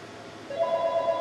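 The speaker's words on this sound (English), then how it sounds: "the phones never stop ringing in my house" A telephone ringing in a house, a faint electronic tone that rises in pitch and holds steadily for under a second in the background of game sounds.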